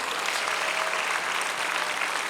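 A church congregation claps together in a dense, steady burst of applause during a Sunday worship service, sustained and even throughout with no speech over it.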